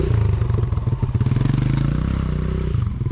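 Dirt bike ridden through an inside rut on a motocross track, the close engine pulsing and chattering in a rapid throaty rhythm over clattering and scraping from the wheels.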